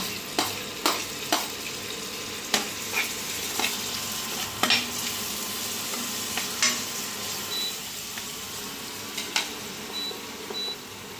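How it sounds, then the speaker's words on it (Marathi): Finely chopped onion sautéing in a pan for pav bhaji, a steady close sizzle broken by repeated sharp scrapes and taps of a spatula stirring, with a couple of faint electronic beeps near the end. "आता ह्याच्यामध्ये कांदा छान असा परतून घ्यायचा व्यवस्थित, एकदम बारीक कापलेला कांदा"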